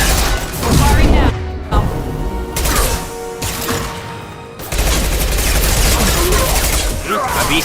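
Bursts of gunfire and loud impacts fill combat in the video game Mass Effect 2, with dense rapid shots and booms that break off briefly before resuming, mixed with game voices shouting over the fighting.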